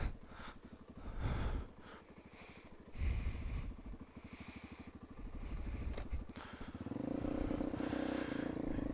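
An Evoque 250cc dirt bike rides down a road at night, its engine putting out a rough, pulsing chug close to the mic with heavy wind buffeting, then building into a steadier, louder drone as it accelerates.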